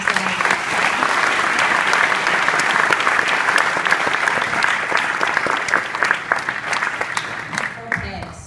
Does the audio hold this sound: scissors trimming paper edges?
no